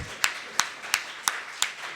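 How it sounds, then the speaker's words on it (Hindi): Audience at a kavi sammelan poetry gathering gives five sparse, evenly spaced claps, thin and somewhat distant, with no voices over them. "ताली कमजोर है आप लोगों के।"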